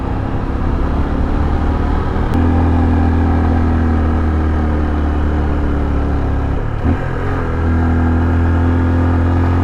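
A motorcycle engine labours steadily up a long, steep road between Banga and Surallah, a loud continuous drone with a brief dip and recovery near the end.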